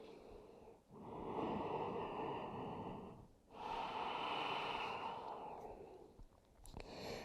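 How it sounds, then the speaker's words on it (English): Slow Ujjayi breathing during a yoga flow: long, hoarse, ocean-like breaths drawn in and out through a narrowed throat, close and clear, with brief pauses between each inhale and exhale and no talking. "Find Ujjayi breath here."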